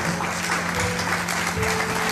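Audience applause at a religious ordination ceremony for men of God, a dense steady patter of clapping throughout, with faint tonal hum and some background voices.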